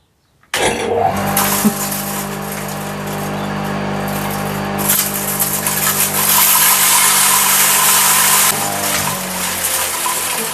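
A DTZ feed grinder runs while grinding grain, a loud continuous mechanical roar with a steady low hum that starts abruptly and holds throughout, with no voices.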